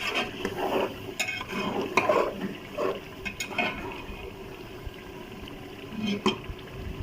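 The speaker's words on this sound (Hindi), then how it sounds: "हमारी अच्छी सी फ्राई हो रही है चिकन, ग्रेवी तकरीबन फ्राई हो रही है इसकी।" Chicken gravy frying in a pot for an aloo chicken dish while being stirred, with repeated scraping and clinking strokes of a spoon against the pot over a steady, soft bubbling sizzle.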